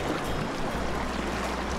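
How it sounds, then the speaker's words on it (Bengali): A round coracle boat moves along a river, giving a short, steady wash of water and wind noise, close and continuous, with no voices. "তো দেখো আমরা বোট রাইড করছি, আর এই কোরাকেল বোট রাইডিংটা কিন্তু খুবই ভালো লাগে"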